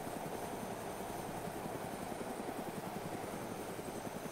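A helicopter setting down in the survival game DayZ: a steady, rapid rotor thump over a broad engine drone, continuous and even throughout at moderate loudness.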